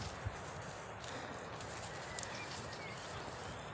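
Horses walk near a mountain lake in spring, their hooves giving soft, scattered clip-clops over a constant outdoor wash of wind and ambience, with a few brief knocks standing out.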